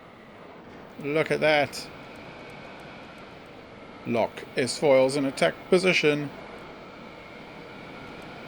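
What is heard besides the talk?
engines of a built X-Wing in the video game Scrap Mechanic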